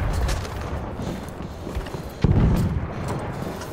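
Gunfire in the Battlefield 1 video game: a dense, noisy battle din with scattered shots and one sharp louder blast partway through, sustained at a fairly even level throughout.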